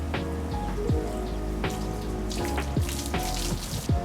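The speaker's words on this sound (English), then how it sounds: "I like to rinse my fillets." Snapper fillets rinsed under running water, a steady close splashing stream with irregular drips and patters as the flow hits the fish.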